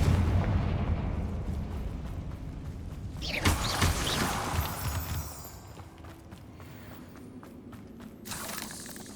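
Booming fire spell explosions in Hogwarts Legacy on PS5 rumble close and loud, with a sharp blast partway through followed by crackling debris and fading rumble.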